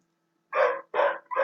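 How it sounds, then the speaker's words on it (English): A dog barks three times in close succession, loud and near, each bark a short harsh burst with brief gaps between, with no talk over it. "apologize about the barking"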